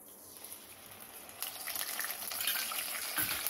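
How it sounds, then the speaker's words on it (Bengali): Ginger paste mixed with water is poured into spices frying in a pan. A steady broadband hiss starts low, then swells into a louder sizzle and splash about halfway through and stays loud to the end. No one speaks. "এই আদা বাটা জলে গোলা সেটা আমি দিয়ে দেবো।"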